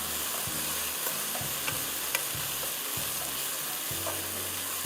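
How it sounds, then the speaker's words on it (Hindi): Crushed garlic frying in a pan, a steady close hiss of sizzling oil with soft, periodic thuds and scrapes of a spatula stirring through it, no one speaking. "अच्छी तरह फ्राई कर लीजिए,"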